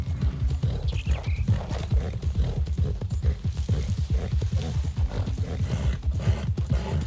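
A horse gallops in Red Dead Redemption 2, its hooves pounding in a fast, even rhythm that is close and steady throughout, with no talk over it.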